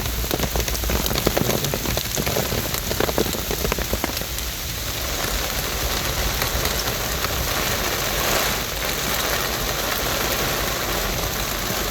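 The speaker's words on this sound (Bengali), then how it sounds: "প্রচণ্ড বৃষ্টি।" Heavy torrential rain pours down on a street in Bangladesh, a dense, loud and continuous hiss of drops hitting surfaces, with a low engine idling faintly underneath.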